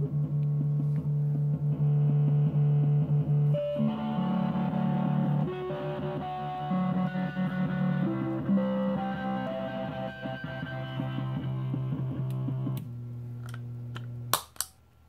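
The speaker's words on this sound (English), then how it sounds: "this is also a form of distortion, the big muff. This is like more extreme distortion." An omnichord played through a Big Muff distortion pedal gives thick, heavily fuzzed sustained chords that shift pitch over several seconds, then fade into faint clicks at the end, with no talking.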